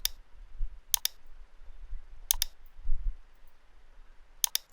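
Sharp computer mouse clicks in close pairs, four double clicks spread evenly with quiet gaps, heard over a faint low hum while a brush tool is used in photo editing software.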